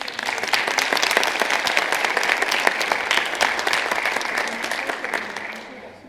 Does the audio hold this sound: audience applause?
yes